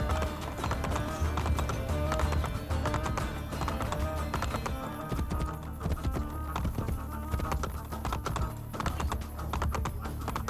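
A horse's hooves clip-clop in the video game Assassin's Creed Brotherhood, a steady rapid clatter of close, crisp hoofbeats running continuously with no talk.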